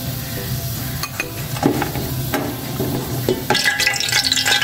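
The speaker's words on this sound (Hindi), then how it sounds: "अब सबसे पहले हम इसमें घी डालते हैं" Ghee going into a cooking pot on a stove before rice is cooked, heard as close metallic clanks and scrapes of a spoon against the pot over a low steady hiss of heating, ending in brighter crackling.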